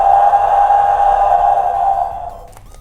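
A Mattel Jurassic World T-Rex Sound Surge toy gives one loud, sustained electronic roar that holds steady for about two seconds, then fades and stops with a faint click.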